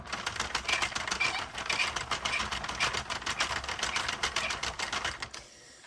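A Sentro knitting machine is cranked through rows of wool, giving a fast, steady clicking rattle close up that runs for several seconds and then stops abruptly.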